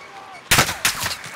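Gunfire in the Call of Duty battle royale map Rebirth Island: a sharp loud burst of shots starts abruptly after a moment of quiet, followed by a second cluster of rapid close shots.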